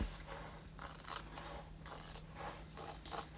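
Quiet snipping and scraping while trimming a dusty piece off a diamond painting, with faint repeated cuts and mechanical clicks over a steady low hum, close and soft.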